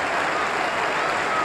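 Sustained, steady applause from a large cricket crowd at a 1992 World Cup match in Wellington, New Zealand, as a batsman walks off after scoring 78 runs; dense and even throughout with no break.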